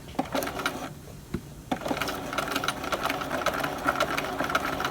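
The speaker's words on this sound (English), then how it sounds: "start the stitching right on the machine stitching line" Sewing machine running short stitches along a collar and lapel facing, a steady close mechanical whir with rapid needle clatter that pauses briefly near the start before resuming continuously.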